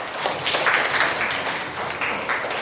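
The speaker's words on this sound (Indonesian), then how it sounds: "Tepuk tangan." A school class of ninth graders claps together in a classroom, a steady wash of applause from many hands lasting a few seconds, fairly close and without talk over it.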